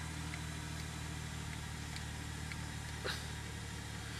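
A car engine idling at about 2,000 rpm on a cold day gives a low, steady hum at a constant pitch, quiet and unchanging, with faint background noise.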